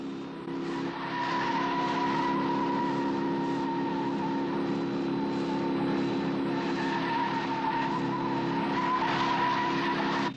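A speeding car skids with long, continuous tire squeal and steady engine roar, loud and close throughout.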